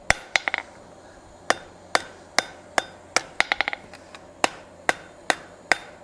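Sharp metallic hammer blows on an anvil forging the stem of a steel feather, struck in irregular bursts, some quick clusters of rapid taps and others spaced about half a second apart, with bright ringing.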